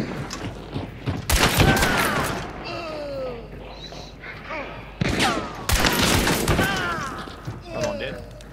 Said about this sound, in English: I shot him through the grills, bro, as he was running.